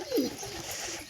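Pigeons gathered to eat grain and rice let out a single soft, low coo up close, brief against a faint background hiss.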